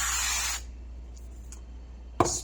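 Cooking oil sprays from a can into a hot pan on a stovetop while softshell tacos are being made. A loud, steady hiss lasts about half a second, then a quieter pause, and a second short spray bursts near the end.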